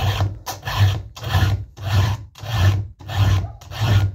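A file sharpens chainsaw teeth in seven rhythmic strokes about half a second apart, each a loud, close, gritty rasp with short gaps between, and no talking.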